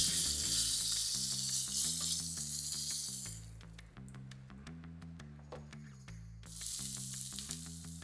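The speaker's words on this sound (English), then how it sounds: "if I start by searing off 3 of these shanks" Three lamb shanks sear in a hot pan for a Moroccan dish with a loud, steady sizzle that drops away mid-clip and returns, under background music.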